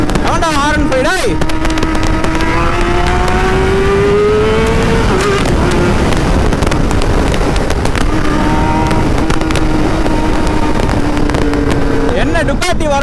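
Yamaha R15 motorcycle engine whine rising and falling during a superbike group ride on an open road, heard under heavy wind roar with voices shouting over the noise.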